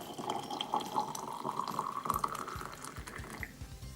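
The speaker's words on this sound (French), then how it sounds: "De l'eau bouillante que je verse." Boiling water pours into a glass jar in a continuous close gurgling stream whose pitch rises as the jar fills, followed by a few soft knocks and clinks.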